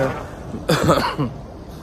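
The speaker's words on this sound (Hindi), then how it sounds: "देख लें मुझे खांसी भी लगी हुई है" A single sharp cough close to the microphone, with a quiet voice murmuring before and after it.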